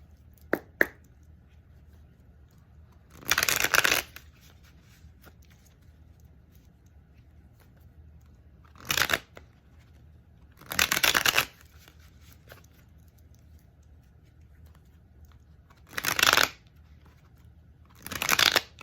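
Several short bursts of tarot cards being riffled and shuffled, spaced apart with quiet pauses between, close by.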